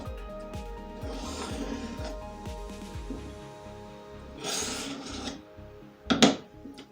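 A knife blade is drawn along its bevel across a ceramic sharpener in a series of short, evenly paced rasping strokes, close and fairly quiet, with a couple of louder scrapes near the end.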